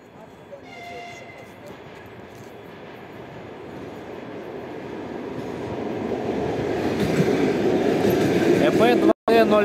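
An ED2 electric commuter train rumbles closer at Snegiri station, its steady roar building louder over several seconds, with faint voices beneath and a brief break near the end.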